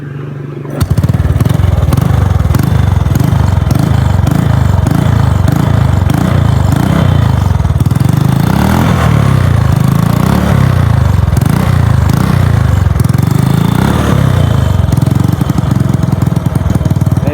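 A Honda Wave 100S motorcycle, engine in near-stock condition, runs loud and close with a steady, rapid putter and mechanical clatter, holding an even idle for the whole stretch with no talking.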